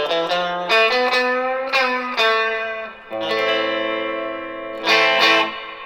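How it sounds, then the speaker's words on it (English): A Swart Space-Tone tremolo guitar amp rings out with lush spring reverb as rockabilly-style guitar phrases and sustained chords are played, notes trailing off in a washy tail; loud and close, with no talking. "really cool reverb section"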